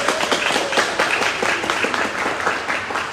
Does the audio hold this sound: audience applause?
yes